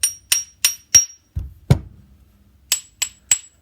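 A hammer strikes steel in sharp metallic taps: three quick ringing hits, a pair of duller thuds, then four more bright clinks. Each hit rings briefly and clearly with no talk.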